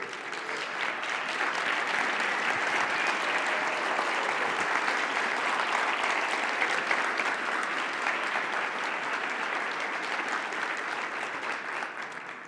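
Audience rising to a standing ovation for Nelson Nash at a financial education event, steady sustained clapping from a large crowd for about twelve seconds, no voices over it.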